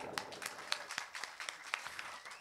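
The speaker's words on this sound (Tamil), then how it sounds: "மண்ணின் மைந்தன் என் அன்பு தம்பி முருகனுக்கு ஒரு கைதட்டு கொடுக்கலாம்." Audience applause at an outdoor village drama performance of Valli Thirumanam in Tamil Nadu, a steady spread of many hands clapping at moderate distance for a couple of seconds.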